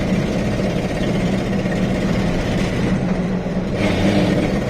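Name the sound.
1973 Datsun 240Z engine running rich, carburetor tuning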